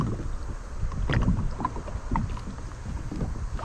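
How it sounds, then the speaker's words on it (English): An Old Town Sportsman 106 kayak rocks side to side on open water, giving a close, continuous wash of water sloshing against the hull with soft wind buffeting the microphone. "this is a back and forth movement of the kayak. Do side to side."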